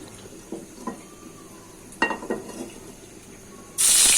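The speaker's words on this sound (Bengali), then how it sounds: "দুই পিস মাছ আমি লাল করে ভেজে নিব" Pieces of fish frying in mustard oil in a pan: a few clinks and scrapes of utensils, then a sudden loud hiss of sizzling bursts up and carries on strongly at the end.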